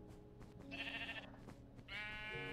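Sheep bleating in the Minecraft video game, two drawn-out game bleats in quick succession over a steady background of other game sounds, fairly loud and close.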